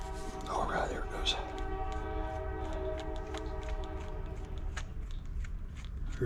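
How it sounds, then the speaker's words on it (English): A train passing nearby while a Honda GX200-powered pressure washer is being repaired, its horn sounding as sustained layered tones fading after a few seconds over a low rumbling background, with faint quiet voices. "Here comes the train."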